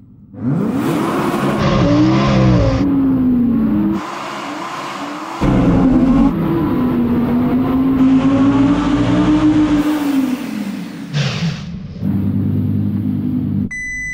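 Audi R8 floored on snow with stability control off: loud, close engine revving in long surging bursts with rising pitch, broken by brief gear-change drops and a final sharper rev, tires spinning and squealing underneath.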